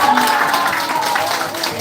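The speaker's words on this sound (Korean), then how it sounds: "우리 최진아 이사님께 감사하다고 박수 한번" An audience applauds at a gathering, a dense wash of many hands clapping steadily and loudly for a moment.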